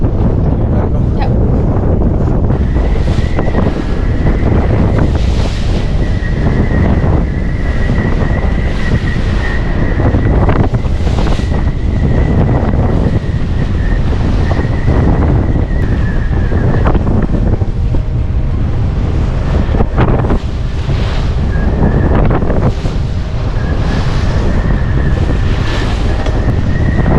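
Strong wind roars across the microphone while waves crash and green water sweeps over the dodger of a sailboat under way, a loud, continuous wash with repeated heavier surges and no voices.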